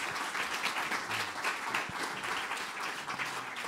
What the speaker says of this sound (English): Let's give a round of applause to this great panel.